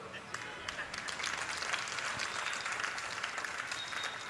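An audience applauds with a faint, continuous wash of many hands clapping at a distance, unbroken for several seconds.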